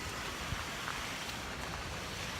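Steady, soft rushing water from a small waterfall with green algae, a continuous wash of noise with no voices.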